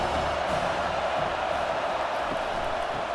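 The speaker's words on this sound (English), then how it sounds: "This crowd bringing the energy and noise early." A college football playoff stadium crowd at Notre Dame versus Indiana keeps up a dense, steady roar of cheering and noise, loud and continuous throughout without letup.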